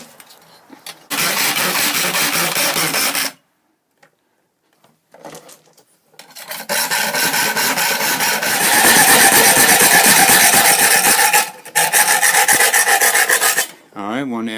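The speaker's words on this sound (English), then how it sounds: "And notch it first with a file." A metal file rasps against a steel saw blade to cut a notch, in long, loud, steady bursts of grinding strokes separated by short silent pauses.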